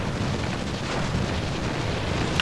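A Barrage artillery strike lands in the mobile game Titanfall Assault: a dense, continuous rumble of overlapping explosions, loud and close throughout, with no voice.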